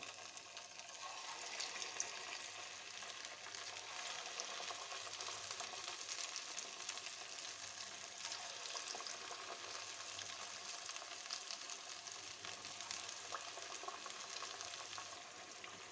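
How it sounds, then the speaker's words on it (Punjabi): Potato slices for crispy aloo pakoras fry in hot oil, giving a continuous, even, hissing sizzle that holds steady throughout with no talk. "ਹੁਣ ਸਾਡਾ ਤੇਲ ਵੀ ਗਰਮ ਹੋ ਗਿਆ ਹੈ ਇਹਦੇ ਵਿੱਚ ਆਲੂ ਦੇ ਸਲਾਈਸ ਪਾਈ ਜਾਵਾਂਗੇ"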